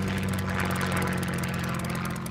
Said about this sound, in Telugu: మొదటి దాడి మేహుల్ హెలికాప్టర్ మీద జరిగింది.